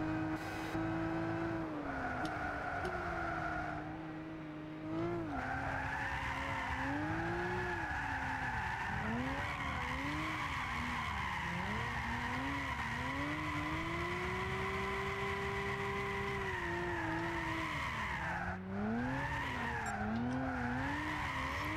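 A Lexus GS300 drift car slides through corners in Gran Turismo 6, its engine droning and rising and falling in pitch with continuous loud tire squeal across the whole run.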